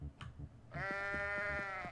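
Goat in the Payday 2 goat mod lets out a loud, sustained bleat lasting over a second, close and clear, after a brief quieter bleat and low game noise.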